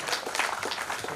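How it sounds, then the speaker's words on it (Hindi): A crowd at a gathering breaks into loud, dense clapping that rolls on without pause across the whole short stretch. "सब लोग बहुत जोरदार तालियों से इस्तकबाल करें।"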